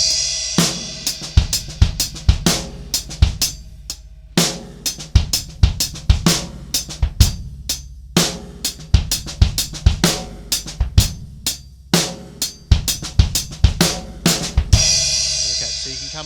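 Drum kit playing a linear sixteenth-note triplet beat, with kick, snare and hi-hat strokes falling one at a time in a rolling, continuous pattern, loud and close, ending on a crash cymbal, no talking.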